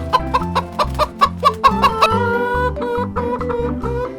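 Chickens cluck and a rooster calls over a farm-themed backdrop, with rhythmic clucking pulses laid over a steady musical bed, loud and close.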